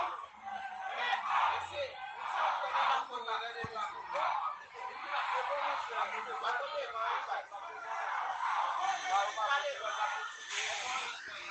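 A crowd gathered along Route 42 in Haiti shouts and chatters continuously, a dense, mid-distance mass of voices that holds steady throughout.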